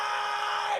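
A voice loudly imitates a pronounced, screamed sneeze in one short, strained vocal burst lasting under a second.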